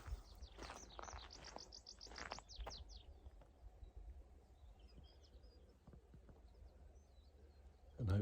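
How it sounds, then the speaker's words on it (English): Birdsong on open heathland at Pebblebed Heaths, Devon: a quick run of faint chirps and trills in the first few seconds, then quieter scattered calls over a soft outdoor background, fairly distant and without speech. "there's plenty of activity, there's lots of bird song"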